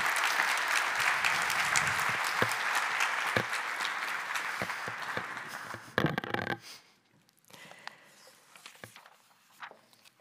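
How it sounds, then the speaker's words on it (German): Warm audience applause at an innovation congress, dense and sustained clapping from a large crowd that thins out and stops, leaving a few scattered claps. "Einen herzlichen Applaus bitte."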